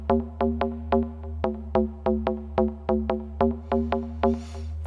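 Deep techno bass line with everything under 272 Hz filtered out and echo added, pulsing in a steady, even rhythm of short repeated notes, loud and alone with no talk.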